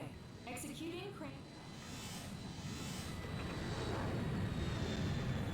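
A plane passes overhead in the Ghost in the Shell game, a jet roar swelling from quiet to loud over several seconds, following brief speech at the start.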